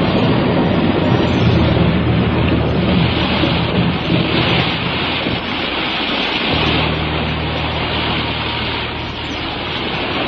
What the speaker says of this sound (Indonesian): Langit bagaikan robek, memuntahkan deras hujan, dan pijar halilintar menggelegar,